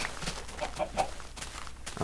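Several soft clucks from chickens in Minecraft, scattered and fairly close, with no talking over them.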